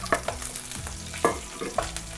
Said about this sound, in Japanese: アンチョビが溶けたのでご飯入ります